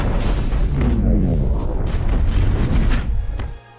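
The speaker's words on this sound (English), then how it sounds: "We hear the explosion before we even see it." Jericho missiles from the Iron Man film explode in a big, rumbling cinematic blast, with heavy low booms, crackling debris and sharp bursts, then a quick fade at the end.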